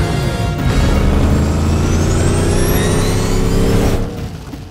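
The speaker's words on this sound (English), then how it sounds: "The car chase between Batman and the Penguin is a great example of this." Cars speeding through the Batman and Penguin chase, a loud steady engine roar with revving that sustains for about four seconds and then drops away.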